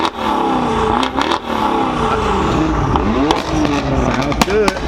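At an outdoor meetup of German cars, a car engine with an aftermarket exhaust revs repeatedly in quick rising bursts, loud and close, while people talk underneath.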